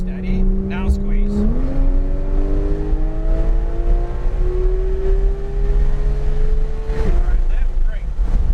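A Porsche 911 GT3 engine accelerating on a race track, revving up in a rising, sustained pull after a shift, loud and close with a second shift near the end; an instructor's voice talks over it.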